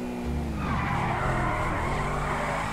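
A Bugatti drifts in GTA 5, its tires squealing in a long, loud skid over a steady engine roar, the screech rising and then holding for several seconds.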